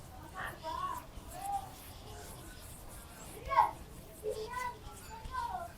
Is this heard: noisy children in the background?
yes